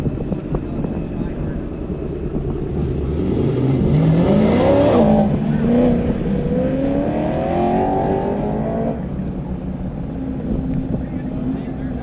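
A Porsche GT3 RS race car finishes an autocross run at an airfield course, its engine loud and droning with a rising then falling pitch as it sweeps past, over a steady background roar.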